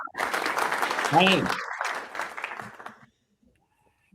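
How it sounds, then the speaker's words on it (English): A television studio audience applauds to welcome a fitness trainer guest onto an Adelaide talk show, the clapping running under a host's loud greeting and chatter before cutting off into near silence. "Round of applause"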